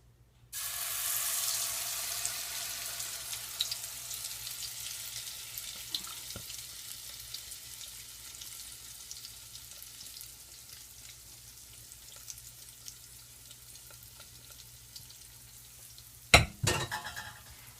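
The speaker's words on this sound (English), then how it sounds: "We should hear a nice sizzle." Cornbread batter hits a hot cast iron pan with a loud, steady sizzle that slowly fades, followed by a sharp clank near the end.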